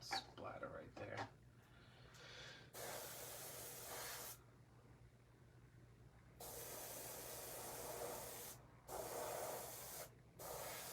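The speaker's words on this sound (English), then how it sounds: "See how I'm spraying the white?" An airbrush sprays white paint onto a custom Halloween mask in bursts of steady hiss, several on-off passes with short pauses between them, close and fairly loud.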